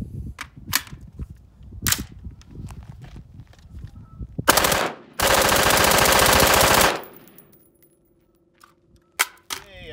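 Mark 18 rifle firing 5.56 green tip rounds in a magazine dump, scattered loud close shots building to a dense sustained burst of rapid fire, then quiet with a few last clicks.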